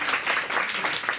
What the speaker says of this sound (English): So also give them a round of applause.